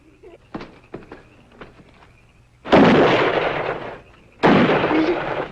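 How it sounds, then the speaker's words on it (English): Gunshot sound effects in a radio comedy, two long, loud roaring blasts following a stretch of lighter clicks and taps, with no talk over them. "He's shooting this partner."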